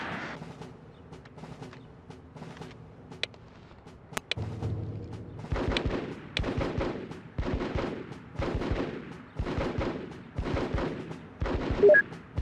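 Video game gunfire in a military shooter, with rhythmic bursts of shots repeating at moderate volume after a quieter stretch, punctuated by a sharp crack.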